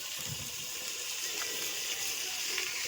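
Water runs steadily from a tap while chicken is washed, a continuous close gushing wash with faint splashes, fairly quiet and without talk.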